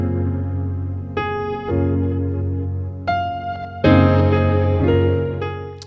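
Keyscape keyboard played through crystallizer and heavily EQ'd tone, sounding as sustained harmonic chords with shimmering overtones, new chords struck at a few points and ringing on alone, moderately loud.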